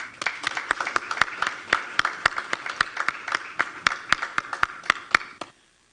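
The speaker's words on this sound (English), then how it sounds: "we'll give them one more round of applause" A small audience at an education ministry news conference applauds top exam students: about twenty distinct, fairly even claps from a few people, close and crisp, stopping abruptly near the end.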